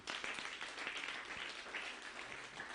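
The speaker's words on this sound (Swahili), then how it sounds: "pigia Yesu makofi" A church congregation at a Sunday service claps together, a dense, sustained wash of applause that sounds somewhat distant and soft throughout.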